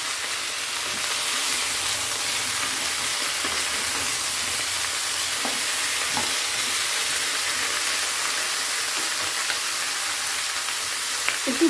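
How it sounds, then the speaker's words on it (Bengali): Shukto vegetables (radish, eggplant, flat beans, yardlong beans, green banana, sweet potato, bitter gourd, ridge gourd) frying in a pan with salt give a steady, even sizzle with faint scattered crackles, close and continuous, no voices. "একটু ভাজা হোক"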